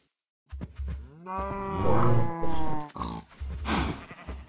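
Cattle in the Minecraft video game moo several times in succession, loud and close, with long drawn-out low calls overlapping one another and no talk.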